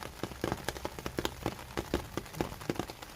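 Rain falls onto a nearby surface in quick, irregular patters and taps, fairly faint but steady, with no voices.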